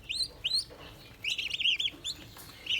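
Newly hatched turkey poults and goslings from an incubator give high, bright peeping chirps in short clustered bursts, close and fairly clear, with quiet pauses between calls.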